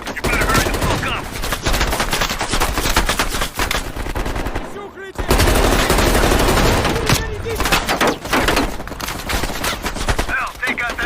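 Machine gun fire from a battle in the video game Call of Duty Black Ops Cold War: loud, dense automatic bursts fill nearly the whole stretch, broken by one brief lull midway, with the chaotic gunfire continuing close and unrelenting.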